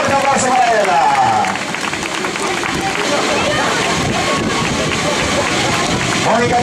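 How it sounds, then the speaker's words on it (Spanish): Spectators at the Cambados urban mile race applaud a runner outdoors, a loud continuous crowd clapping with voices mixed through it. "Fuerte aplauso para ella."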